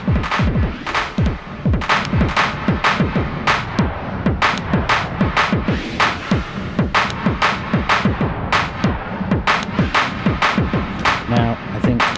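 Strymon StarLab synthesizer in diffuse mode, a dense wash of rapid, pulsing sweeps and throbbing bursts at a steady pace, loud and close, with no talking.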